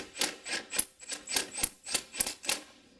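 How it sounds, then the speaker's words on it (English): A 15 mm wrench ratchets against a belt adjuster on an engine during A/C compressor bypass work, giving about eight crisp, evenly spaced rasping clicks, close and fairly loud with no talking. "Then we're going to take our 15 millimeter. We're going to loosen up our adjuster."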